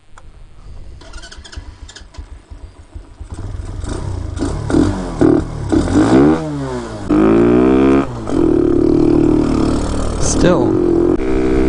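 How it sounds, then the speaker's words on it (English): A 125cc Hellcat Raptor motorcycle engine on a Nibbi carburetor, run at wide open throttle and running lean, revs up and sweeps through rising and falling pitch, loud and close, with brief talk. "A wide open throttle cut. It sounds lean to me."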